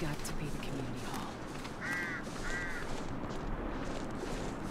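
A crow or raven caws twice in the survival game The Long Dark, two short harsh calls set against wind and ambient noise in a deserted mining town, with someone speaking.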